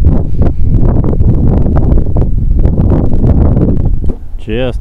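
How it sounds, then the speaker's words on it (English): Strong wind blows across a boardwalk beside coastal dunes on Cumberland Island, Georgia. It comes through as a loud, continuous low roar of gusts buffeting the microphone up close. "A lot of wind out here."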